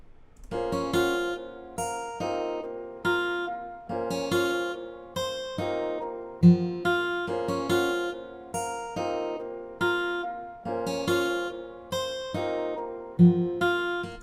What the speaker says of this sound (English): I just finished up the guitar melody